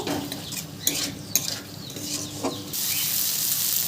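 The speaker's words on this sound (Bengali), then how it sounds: "সবজিগুলো দিয়েও একটু নাড়াচাড়া করে নেব।" Fried vegetables stirred into spiced masala in a pan for a vegetable dal, giving a soft steady sizzle with scattered utensil scrapes and clinks near the pan, with no talking.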